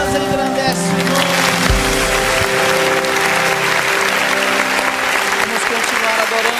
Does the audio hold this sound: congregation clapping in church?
yes